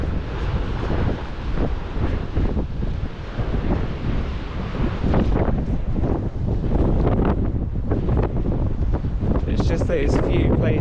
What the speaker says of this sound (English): It's just those few places where the gusts are really strong.